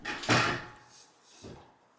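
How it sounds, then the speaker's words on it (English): A ceiling fan down rod slides into its mount with a close, scraping slide, then a second, softer scrape a moment later. "Next, I slid the fan down rod into the mount"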